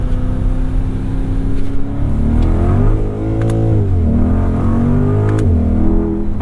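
A 2020 Chevrolet Corvette C8 accelerates hard on a wet winter road, its engine note rising steadily in pitch, dipping briefly at a shift, then climbing again, loud and close throughout with no talking.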